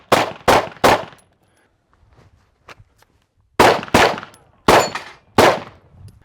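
Handgun shots fired right after a draw from an inside-the-waistband holster on the right side, two loud close strings of three and four sharp reports with a short quiet gap between them.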